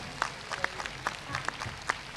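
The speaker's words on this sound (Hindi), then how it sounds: "खूब तालियां बजाओ, जितनी जोर से बजा सको बजाओ" Audience applause at a large spiritual gathering at Shivaji Park in Mumbai, a soft steady patter of clapping with a few sharper individual claps standing out, fairly faint and distant.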